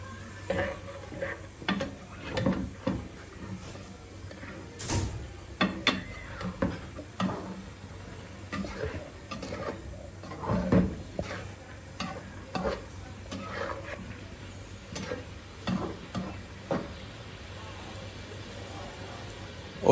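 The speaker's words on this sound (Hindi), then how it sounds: "मैंने जो चिकन यखनी के लिए इस्तेमाल किया था वो चिकन में अब इस मसाले में अच्छी तरह मैं भून लूँगा।" Chicken roasting in masala in a pot is stirred with repeated scraping strokes and scattered clinks over a low sizzle, irregular in rhythm and fairly close.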